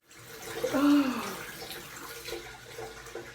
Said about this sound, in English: So you rinse off your face with just warm water and then later on cold water.